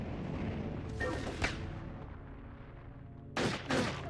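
Gunshots from the Nintendo 64 game Turok 3: two separate bursts of loud broadband shots, one near the start and one near the end, each with a quick double crack, over a steady low game hum.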